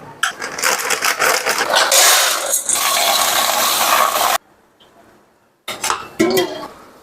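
Soya chunks being rinsed in a bowl, giving a loud run of clattering, splashing and bowl clinks for about four seconds, a brief quiet pause, then another short burst of handling sounds.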